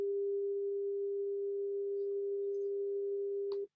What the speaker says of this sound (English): So here's the sine wave at 400.